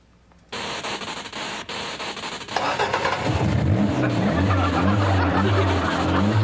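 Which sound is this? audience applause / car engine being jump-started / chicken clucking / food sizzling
car engine being jump-started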